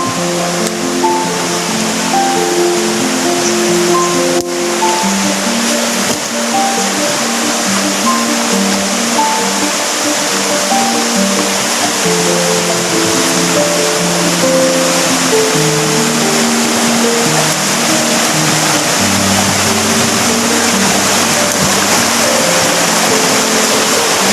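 Steady rushing water of a forest stream flows continuously, a broad even wash of sound with no voices.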